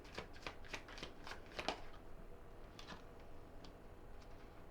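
Tarot cards being shuffled up close, a quick run of riffling, flicking bursts that taper into softer, scattered card slaps, quiet with no voices.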